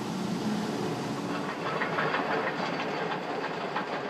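Hitoyoshi Steam Train, a tourist concept train on Kyushu's narrow-gauge line in southern Japan, rumbling past with a steady loud roar of wheels and carriages and faint rhythmic clatter throughout.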